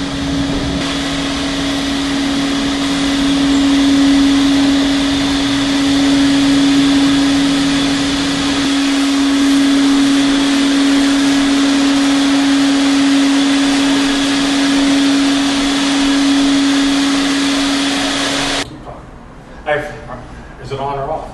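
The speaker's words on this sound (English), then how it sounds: "now I've wet vac up the neutralized chemical solution" A wet vac sucks neutralized chemical solution off a floor with a loud, steady motor drone that holds for about eighteen seconds, then cuts off abruptly, followed by brief voices and handling noises.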